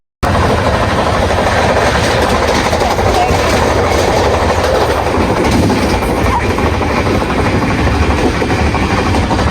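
A crowded train from Delhi to Agra rumbles loudly along the rails with constant rattling and clatter, an unbroken roar that stays steady the whole time.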